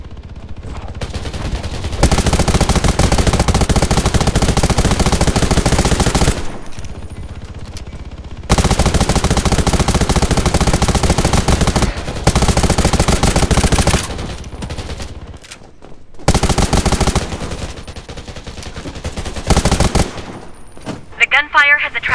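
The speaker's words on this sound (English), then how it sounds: "Gunfire has attracted a big one." Sustained bursts of rapid video game machine gun fire from a PP-19 Bizon in Undawn, loud and close, broken by short pauses between several long volleys.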